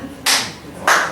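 An audience claps at an open mic night in two short, loud bursts of applause with a quieter pause between them.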